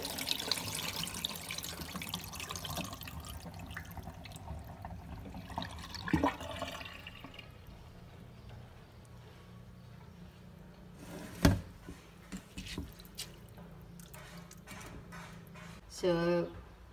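Water splashes and sloshes as rice is washed and the water is poured off, faint and uneven with a few louder pours, while a person talks over it.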